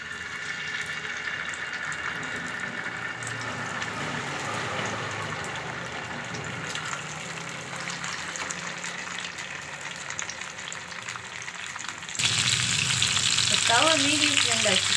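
Rock fish fries in plenty of hot oil on a tava, giving a continuous close sizzle that turns louder and brighter toward the end.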